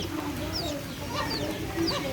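Chickens cluck nearby in a backyard garden, several short calls rising above a continuous outdoor background hum with no speech.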